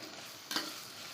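A large chopped onion sautés in a pan, giving a continuous soft sizzle with a brief louder scrape of stirring midway and no one speaking.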